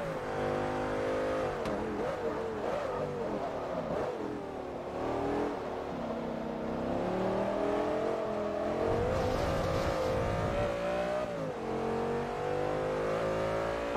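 A fast race car engine in Forza Motorsport 3 revs hard and steadily, its pitch rising and falling through gear changes, loud and continuous for the whole stretch.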